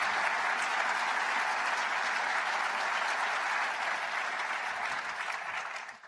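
Sustained audience applause welcoming the members of a science panel, a dense steady clapping from a large crowd that fades out at the end.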